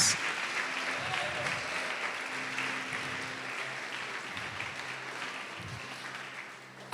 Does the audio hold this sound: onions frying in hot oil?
no